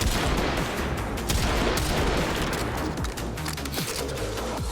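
Rubico Prime sniper rifle fire in the video game Warframe against a corrupted bombard, set in a dense, loud barrage of overlapping gunshots and booms that continues without a break.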